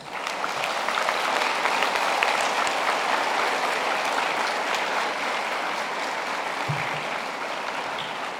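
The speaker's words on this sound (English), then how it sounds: "giving them a big warm round of applause" A graduation ceremony audience gives a sustained round of applause, dense and steady crowd clapping filling a large hall from start to finish with no speech.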